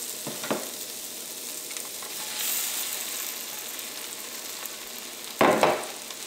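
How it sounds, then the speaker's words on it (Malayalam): Cut parotta stir-fried in a pan with ketchup and chilli paste for chilli parotta: a faint, steady sizzle broken by two brief, sharp scraping bursts of stirring, heard close with no voices. "ഇതിലേക്ക് നമ്മൾ കട്ട് ചെയ്ത് വെച്ചേക്കണ പൊറോട്ട ചേർക്കാം"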